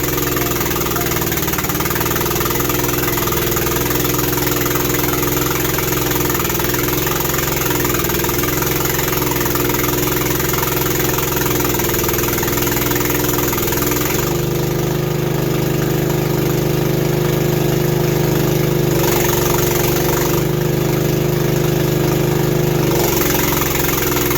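A manlift engine running loud and close with a steady droning, knocking idle, its pitch and load shifting partway through before settling back.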